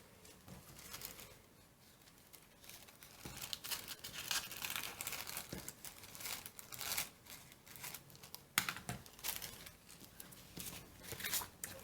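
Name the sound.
trimming off excess paper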